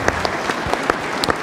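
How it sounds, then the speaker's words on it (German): Applause at a special broadcast celebrating a football club's promotion, held at a hotel: a moderate, scattered patter of clapping with a few sharper individual claps standing out. "Dein Applaus."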